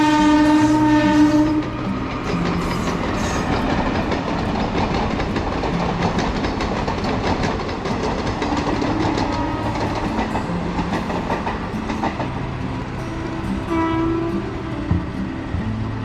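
A train passes near Alleppey beach in Kerala, heard from up a lighthouse: a loud, continuous rumble with rhythmic wheel clatter on the rails, and long horn blasts at the start and again near the end.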